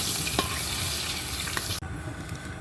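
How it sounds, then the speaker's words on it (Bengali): Katla fish head fries in hot oil with a bright, steady sizzle and crackle up close. The hiss drops off sharply near the end and only a faint bubbling remains. "এবার দেখো মাছের মাথাটা ভেজে নিচ্ছি"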